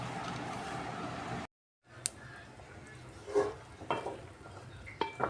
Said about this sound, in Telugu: బాగా ఉడుకుతుంది కర్రీ, ముక్కలు బాగా మెత్తపడాలి